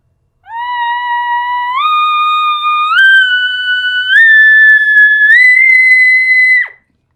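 A reed call imitates an elk bull bugle, climbing low to high in about five held, stair-stepped whistling notes, loud and close with no talking, ending in a sharp drop.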